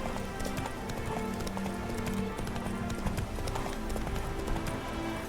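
Roach, a horse in The Witcher 3 video game, trots with steady rhythmic hoof clip-clops over a continuous ambient bed, with a voice speaking briefly over it.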